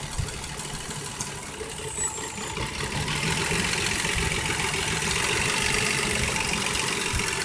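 A car engine idles with one ignition coil pulled off a cylinder, a steady, close, rough-running hum with a dense low rumble throughout and no talk.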